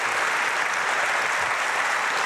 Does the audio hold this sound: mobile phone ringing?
no